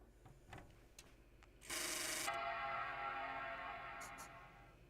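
A Power Mac G4 AGP Graphics computer sounds its startup chime, a loud, sustained tone that rings out and slowly fades. Fan noise and a soft rustle come just before it.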